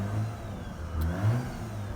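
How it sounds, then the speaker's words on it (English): A cold Mazda RX-8 rotary engine revving, its mid-pitched roar rising and falling in a couple of surges over a steady running note, close and alone. "You're gonna hurt your engine trying to rev it with it being on cold."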